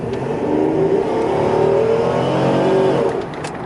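A 1997 Buick LeSabre Limited with a 3800 V6 accelerates steadily, engine note rising and settling through a gear shift, loud and close, then easing off near the end; no talking.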